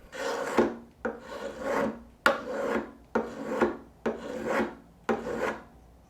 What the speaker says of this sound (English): to actually make the hook, slightly angle the burnisher, and with a jig you can just angle it so it touches the side and pull